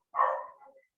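A single short, close bark from a puppy on a farm, a quick bright yip that fades within a second, with no talk.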